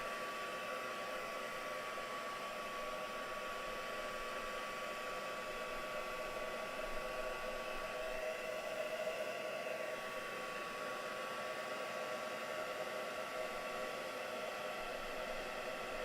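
A hair dryer blows over wet paint colour in a mixed-media demo, a faint, steady, unbroken whoosh running the whole time without speech.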